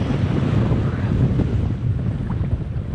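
Wind buffeting the microphone on a Tampa Bay shoreline during wade fishing, a continuous low rushing roar with water noise beneath it, steady and unbroken throughout.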